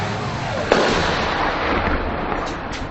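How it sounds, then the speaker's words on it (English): Artillery shelling at the ruined Donetsk airport in wartime eastern Ukraine, with one loud thud followed by a long rolling rumble that echoes and fades across the open ruins. "Ukraine's army is still shelling here."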